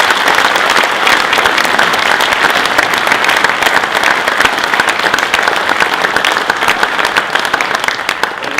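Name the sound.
audience applause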